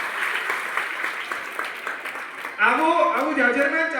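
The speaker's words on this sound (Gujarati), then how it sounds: "તાળીઓના હાથથી આનંદને તમારે વધારવું જોઈએ." Clapping from an audience at a Jain sangh gathering marking the start of Chaturmas, a steady wash of applause that runs throughout, with a voice and music-like tones joining strongly in the second half.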